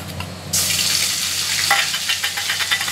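Spices for a paneer dish drop into hot oil and burst into a loud, steady sizzle after a quiet start, crackling on alone without talk.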